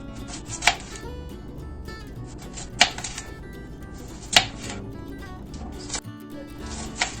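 A knife finely chops onion on a cutting board, a dense run of quick, even taps broken by a few sharper knocks.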